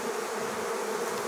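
Italian honey bees produce a dense, steady, close buzz as the colony is moved into a hive box, with a continuous hum that holds at an even level and no voices.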